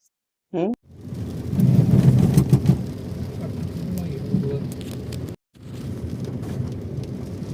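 Heavy rain pours steadily in a continuous dense hiss, briefly interrupted by a sharp cut, with faint voices at the start.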